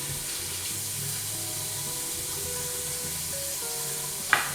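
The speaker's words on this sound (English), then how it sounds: "So I rinse out my brush quickly." A shaving brush is rinsed under a running tap, a steady hissing spray of water close by with shifting tones, ending with a sharp knock.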